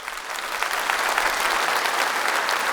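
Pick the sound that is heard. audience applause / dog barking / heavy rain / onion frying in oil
audience applause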